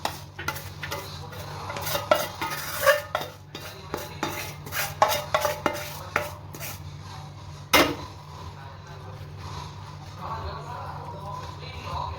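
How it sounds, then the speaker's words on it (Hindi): Mewa pak, a sweet nut fudge, is scraped and spooned from a pot onto a ghee-greased plate, giving repeated close clinks and knocks of metal utensils over a low steady hum, with one sharp clank partway through. "अब हम इस मेवा पाक को इसमें डाल देती हूँ।"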